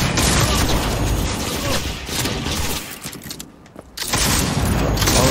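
Gas grenades going off in Cyberpunk 2077 combat, loud bursts and crashes amid gunfire, dropping to a quieter lull before the noise surges back, with a voice talking at times.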